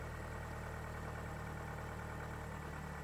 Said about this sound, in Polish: Szybko i sprawnie uruchamiamy silnik.